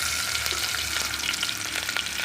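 Onion fries for soya pulao in a pan with green chilli and whole spices, giving a steady, close, crackling sizzle throughout without pause.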